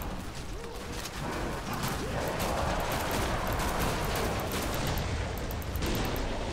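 Rapid, dense gunfire in the video game Killing Floor 2, played as the Sharpshooter on the Hostile Ground map on Hard difficulty, with shots crackling continuously at close range.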